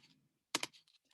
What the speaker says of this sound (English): I'll type in my name